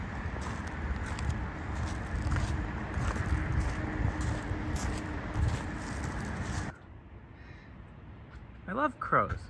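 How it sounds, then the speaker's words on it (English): A crow caws a few times, harsh and close, at the end of a wind-buffeted stretch along a lakeside bicycle trail. "I love crows. Hi there, crow."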